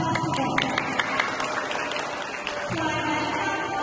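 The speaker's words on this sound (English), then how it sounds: "A big round of applause to them." An audience at a school science quiz applauds a student team, with uneven bursts of clapping and crowd murmur, voices mixed in throughout, moderately loud and thinning out toward the close.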